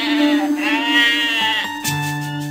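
A single loud, close goat bleat from a pen, one drawn-out wavering cry that ends in a shorter, lower note.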